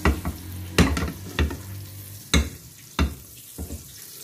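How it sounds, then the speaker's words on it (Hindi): Butter melts with small cardamom pods in a pan, a soft sizzle under repeated sharp scraping knocks of a spoon against the pan, close and irregular. "इतना ज़्यादा इसमें मक्खन डाला है और इलायची हैं छोटी, और मक्खन को मैं मेल्ट कर रही हूँ"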